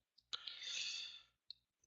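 A computer mouse is clicked a few times, sharp close clicks with a brief rustling scrape between them, in an otherwise quiet room.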